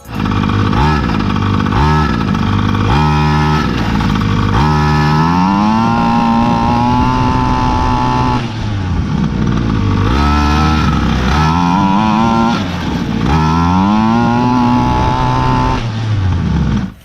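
A Primal MT Raminator 1/5-scale gas RC monster truck engine sputters and revs unevenly for the whole stretch, loud and close, with rising and falling pitch as the throttle bursts and bogs.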